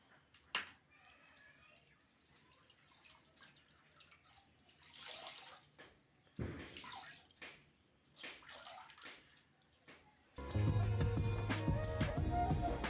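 Water poured and splashing into a bucket for mopping a house floor, with intermittent sloshing and drips close by, then a louder burst of rushing water at the end; no talk.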